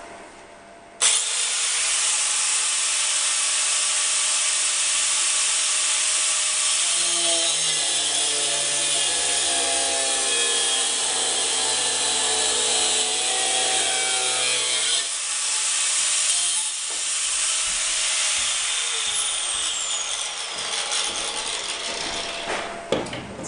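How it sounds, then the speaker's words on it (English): Harsh, continuous metal cutting as the end of a stainless steel screw for a Moravian workbench top is sliced off, throwing sparks; one loud, steady run of about twenty seconds with a shifting, whining pitch and no talk. "One of the screws that's going in the end of the bench is a little bit too long, so I need to cut off about 1 inch of it."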